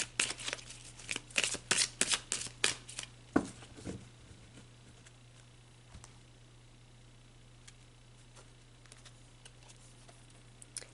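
Oracle cards being shuffled by hand, a close burst of rapid papery riffles and slaps in the first four seconds, then a few faint card taps over a quiet low hum.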